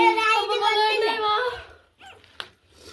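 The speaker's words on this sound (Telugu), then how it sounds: "చిన్న కుక్క పిల్లది, అడ్గో చిన్న కుక్క పిల్లది" A newborn puppy, one of a litter of five, lets out a long, high-pitched whimpering whine up close, followed by a few fainter, softer sounds.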